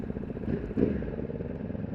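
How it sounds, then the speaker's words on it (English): An extremely loud motorcycle filtering through traffic, its engine a steady throbbing rumble close by with a brief surge partway through, heard alone without talk. "I've got an extremely loud motorcycle"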